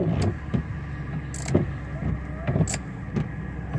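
An old car's engine idles roughly and unevenly, with a steady low rumble broken by several sharp clicks and brief higher bursts across a few seconds, close by and without speech.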